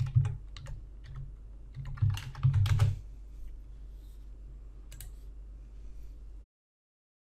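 Keys on a computer keyboard clatter in quick bursts of clicks, denser for a few seconds, then thin out to scattered taps before silence.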